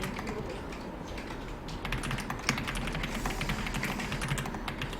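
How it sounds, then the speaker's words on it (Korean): Steady typing on an old computer keyboard, a quick run of close clacking keystrokes that keeps going the whole time and picks up slightly partway through. "키보드 인풋 소리가 좀 아, 기름칠을 해야 되는 건가?"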